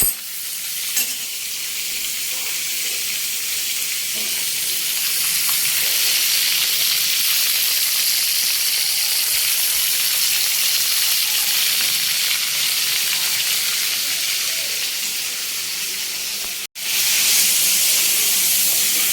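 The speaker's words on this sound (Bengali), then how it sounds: "এগুলো ভাজা ভাজা হোক।" Ingredients for dalia khichuri fry in hot oil, giving a loud, continuous sizzle and hiss that holds steady throughout, with a brief dip near the end as the pan is disturbed.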